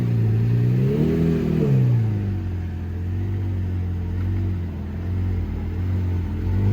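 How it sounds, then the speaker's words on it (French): A Lamborghini Murcielago pulling away near the casino square in Monaco, its engine note rising then settling into a loud, steady low rumble that stays close and dominant throughout. "Il y a le départ de la Murcielago."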